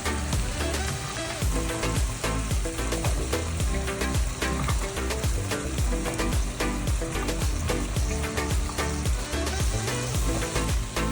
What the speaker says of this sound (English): I'm adding in the veggies now.